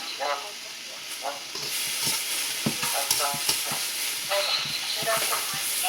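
Chicken, peppers and vegetables are stir-fried in a pan, with a continuous close sizzle and repeated scraping stirs while a person talks over the cooking.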